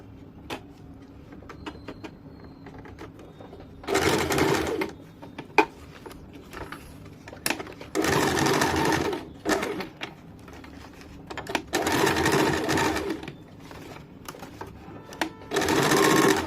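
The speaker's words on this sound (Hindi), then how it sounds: "इसके ऊपर अच्छे से सिलाई कर देंगे" A sewing machine runs in several loud bursts of rapid stitching, sewing elastic into the waistband of a semi-salwar, with quiet pauses between runs.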